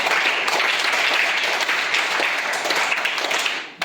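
A crowd of children and adults applauds a student at a quiz programme at a district council primary school. Dense, steady clapping holds for several seconds, then tapers off at the end.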